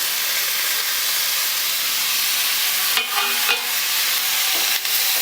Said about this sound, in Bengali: এবার খুব ভালো করে মশলার সাথে এই সবজিগুলো কষিয়ে নেব